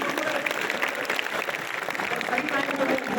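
An audience claps together at a lecture on exam-time study focus, a dense, continuous patter of applause at moderate volume lasting the whole moment, with a voice talking over it.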